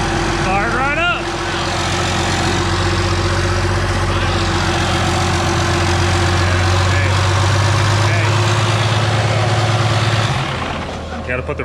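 A Ford Galaxie with a modified fuel system is started and settles into a loud, rough, close idle, the engine rumbling steadily under people talking before cutting off near the end.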